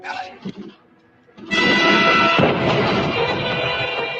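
Sustained, loud gunfire roars continuously for several seconds in a Batman video game, following a few brief sounds and a short quiet moment.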